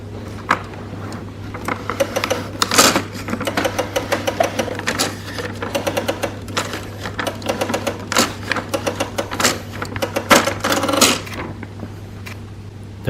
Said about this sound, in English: Use two hands and gently pull the paper from the front.